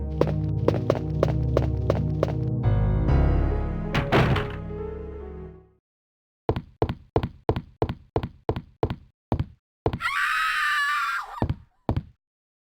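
Dog screaming in Resident Evil 2 (Classic REbirth, PC), a shrill yelp burst near the end following rapid repeated thuds, steady rhythmic impacts and a sustained droning tone, loud and with no speech.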